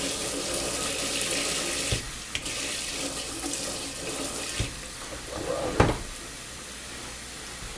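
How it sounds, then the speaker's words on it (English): Tap water runs and splashes as a strainer is rinsed at a kitchen sink, with a few clunks and bumps from handling, close and continuous. "if you just hose off your strainer"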